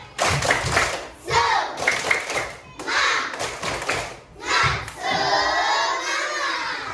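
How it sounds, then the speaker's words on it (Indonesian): A classroom of children performs the tepuk semangat clapping chant, shouting in repeated loud bursts with claps, separated by short pauses, the last burst stretching longer. "Miss mau coba tepuk semangat"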